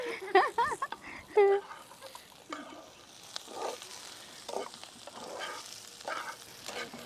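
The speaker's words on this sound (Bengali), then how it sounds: "এখন আমি ভেজে নিচ্ছি শুকনা মরিচ।" Dried chilies frying in a pan over a wood-fired stove, a soft crackling sizzle with occasional stirring scrapes, while a voice is heard near the start.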